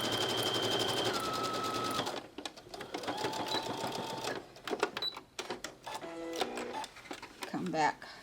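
A sewing machine top stitching a Madeira applique runs in a steady rapid whir for a couple of seconds, then starts and stops in short bursts, with someone talking over it.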